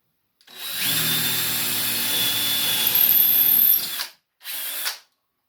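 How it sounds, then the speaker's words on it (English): A power drill whines steadily into wood for about four seconds, stops, then gives a short second burst. "And then I can drill on this side too."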